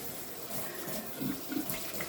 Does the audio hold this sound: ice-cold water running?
yes